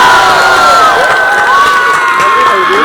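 A student crowd at the Spandan 2023 award ceremony at Central University of Haryana cheers loudly, with whoops and high shouts rising over a dense roar and scattered voices.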